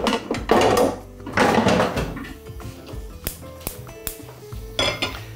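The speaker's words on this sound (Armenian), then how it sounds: "Վերցնում ենք փոքրիկ կաթսան։" A small cooking pot is picked up and handled in a home kitchen, giving several sharp metallic clanks and knocks with quieter scraping and rattling between them.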